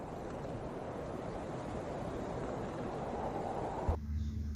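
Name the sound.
wind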